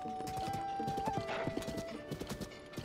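Horse hooves clip-clopping at a quick, steady trot while riding in the video game Zelda: Tears of the Kingdom, close and clear over a soft background music bed, with a brief whinny.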